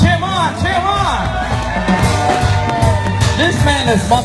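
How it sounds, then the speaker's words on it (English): Audience at a talent show at Sandals Royal Caribbean resort cheering and whooping continuously, dense crowd noise with shouts and scattered voices throughout. "Cheer the man on. Come on, cheer him on, cheer him on."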